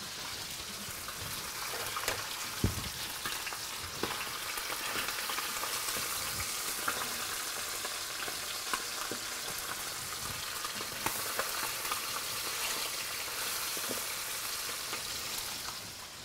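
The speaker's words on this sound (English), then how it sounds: "That sizzle sound means it's on, it's hot." Chicken breast sizzles steadily as it browns in a very hot pan, a constant crackling hiss broken by occasional louder pops and faint stirring clinks, with no voices.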